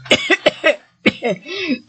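A series of harsh, close smoker's coughs, four quick hacks, a brief pause, then two more raspy coughs.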